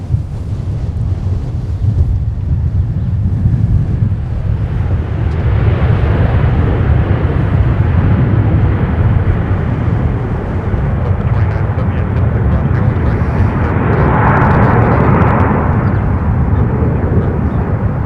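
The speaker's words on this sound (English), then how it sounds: "This is Delta 2078. This is in from San Francisco on an A321." A Delta Air Lines Airbus A321 jet airliner arriving at Minneapolis airport produces a loud, sustained low roar of engine noise, building and swelling over the span with wind buffeting the microphone.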